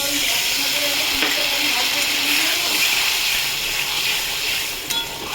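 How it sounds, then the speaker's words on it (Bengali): Water poured into a hot pan for a Bengali gurjali fish curry with potato, giving a steady, loud hiss and sizzle of steam that runs on without a break. "জল ঢেলে দিলাম, জলটা ফুটুক"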